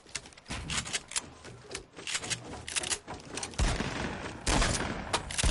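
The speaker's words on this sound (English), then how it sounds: "Where's this guy shooting me from?" Enemy gunfire in Fortnite, a rapid clattering series of shots in uneven bursts, fairly close and steadily intensifying toward the end.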